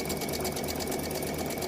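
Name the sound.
sewing machine stitching quilt binding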